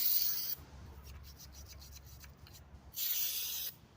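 Small bottle brush scrubbing bolt threads, two bursts of hissing, rubbing strokes with a quieter, rougher stretch between them.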